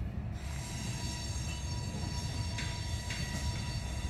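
A long freight train rolls steadily past at a rail line, its loud continuous rumble and wheel roar filling the scene, with faint metallic wheel squeals rising briefly near the end.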